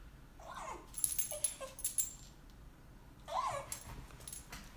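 A dog whimpers indoors at night, several short high whines and yips coming in bursts, fairly close but quiet, with no talking.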